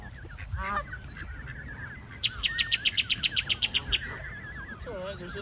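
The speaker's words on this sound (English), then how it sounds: "Oh, and we got ducks in here." Several ducks on a lake at Carolina Beach give honking calls, including a rapid run of about a dozen nasal honks, nearby over steady outdoor background noise.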